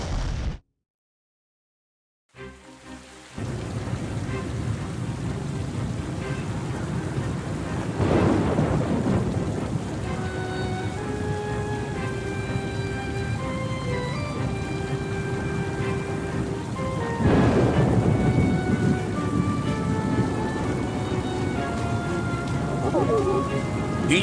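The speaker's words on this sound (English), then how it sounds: "It began on a dark and stormy night, and all within a lost realm." Video game thunderstorm in Oceanhorn 2: Knights of the Lost Realm, with steady heavy rain and two loud rolling thunder claps, plus a brief opening sound cut off by silence before the downpour starts.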